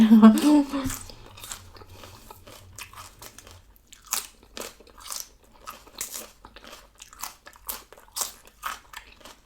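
Loud crisp bites and chewing of cucumber salad and grilled duck leg, recorded close up in a rhythmic series after someone speaks briefly at the start.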